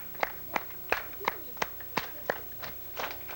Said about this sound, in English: would you help me along with a little applause here like this here?